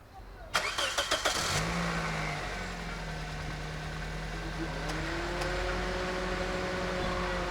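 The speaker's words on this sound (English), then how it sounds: "So I'm going to start the car now and see what we have." A car engine cranks with a quick series of starter bursts and catches. It settles into a steady idle as the air conditioning compressor engages, and a whining tone rises and holds under the running engine.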